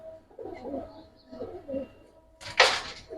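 Giribaz pigeons coo softly in low, murmuring phrases, followed by a sharp brief flutter or rustle near the end, close by with no talk.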